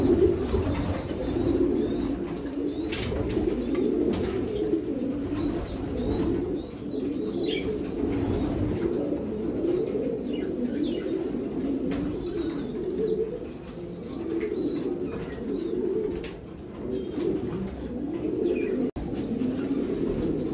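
Racing pigeons coo in soft, repeated throaty bursts, close by, while wings flap in short flurries throughout, with no speech.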